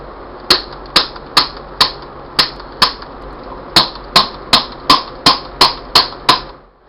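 HHO gas flashing back into a ClearFlash flashback arrestor gives a series of about fourteen sharp, loud pops, each with a short ringing decay. They come at a fairly even rhythm, roughly one every half second, with a quiet hiss between them and no talking.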